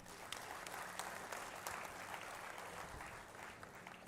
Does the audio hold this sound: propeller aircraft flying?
no